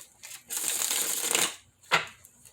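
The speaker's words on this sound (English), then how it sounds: "one more shuffle, and here we go." A deck of cards being shuffled close up: a long riffle followed by a quick second snap of cards.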